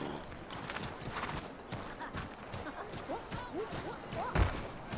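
Horse hooves clopping at a steady gait in Assassin's Creed III, moderately loud over outdoor ambience, with one heavier thump near the end.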